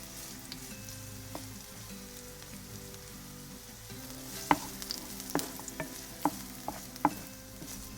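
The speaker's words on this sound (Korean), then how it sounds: "달궈진 팬에 식용유 5큰술을 넣고 썰어둔 마늘과 생강채를 함께 볶아줍니다" Sliced garlic and ginger strips frying in five spoonfuls of cooking oil in a hot pan for braised eel, a steady bubbling sizzle with a few sharp utensil clinks and scrapes later on.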